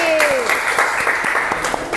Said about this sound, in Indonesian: Tepuk tangan, Albi.